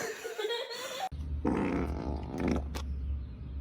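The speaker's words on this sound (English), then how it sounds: "Papa farted." A fart from an adult, fairly loud and close, sounding amid a child's laughter and chatter in a noisy home.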